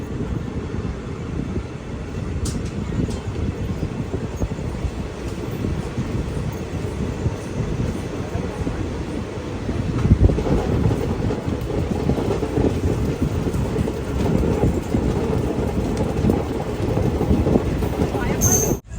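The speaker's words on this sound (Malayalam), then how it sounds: "ഷൊർണൂർ ജംഗ്ഷൻ റെയിൽവേ സ്റ്റേഷനിലേക്ക് ഇതാ നമ്മുടെ ട്രെയിൻ എത്തിക്കൊണ്ടിരിക്കുകയാണ്" A mail train on the Mangaluru to Chennai line rolls into Shoranur Junction station, a continuous low rumble of wheels and carriages that swells partway through, with a voice talking over it.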